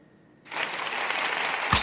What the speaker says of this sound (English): Hey, round of applause.